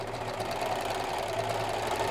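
A serger overlock machine runs slowly with all four threads held, giving a steady, close, continuous mechanical hum with a fine repetitive rattle and no talking.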